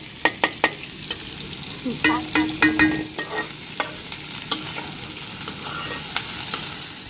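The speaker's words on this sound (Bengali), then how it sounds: "এখন একটু পেঁয়াজটা ভাজার পরে এই যে কাঁচামরিচ দিয়ে দিল" Onions fry in a pan at home, a steady close sizzle broken by a series of sharp spatula scrapes and clinks against the pan, with no talking.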